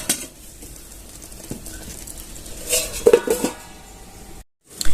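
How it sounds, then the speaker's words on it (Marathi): A lid set onto a pot of cooking aubergine for bharit, a couple of close metallic clanks and clinks standing out over a soft background, followed by a brief silence and another knock. "पाच एक मिनिट आता झाकण ठेवून देऊया"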